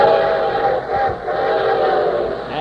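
A train sound effect on a 1952 Railroad Hour radio broadcast: a steady rumbling roll with whistle-like tones, loud and continuous for a few seconds with no voices over it.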